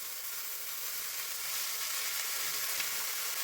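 Fenugreek leaves frying in a small pan give a steady, dense sizzle that runs unbroken and evenly loud throughout, close by and without any voices.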